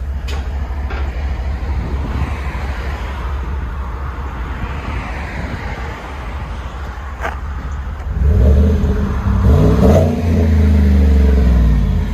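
A 2017 Chevy Silverado 5.3L V8 with a Flowmaster Outlaw exhaust rumbles steadily, then revs harder with a deep throaty exhaust roar that swells and holds near the end.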